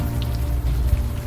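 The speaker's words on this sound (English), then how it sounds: "Still raining." Steady rain falls through a video game scene in Unavowed, a continuous close hiss of drops on surfaces with a low rumbling bed underneath, no voices.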